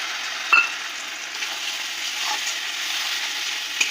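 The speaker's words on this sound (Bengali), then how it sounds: "পেঁয়াজটা এরকম ভাজা ভাজা হয়ে যাবে, তারপরে দিয়ে দেবো পোস্ত" Onions fry in hot oil for begun posto, a Bengali aubergine and poppy-seed dish, giving a steady, close sizzle with occasional light stirring clicks.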